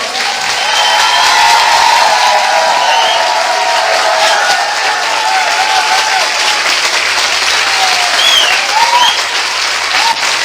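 Loud, sustained applause from a church congregation praising God, steady dense clapping with some cheering throughout, no talk over it.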